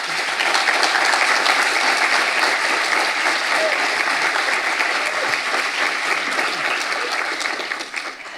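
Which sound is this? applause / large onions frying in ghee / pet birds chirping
applause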